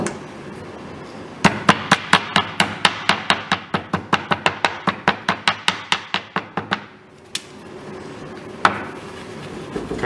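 A hammer pounds papyrus strips steadily in a fast, even rhythm of about two dozen sharp knocks, then stops, followed by a couple of isolated thumps.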